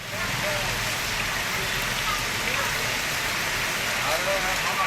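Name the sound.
heavy rain falling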